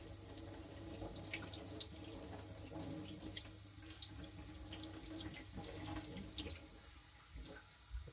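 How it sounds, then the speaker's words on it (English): Running tap water pours steadily over a knife blade at a sharpening stone setup, a faint, continuous splashing stream with small trickles and drips, no talking. "Just let's wash the blade."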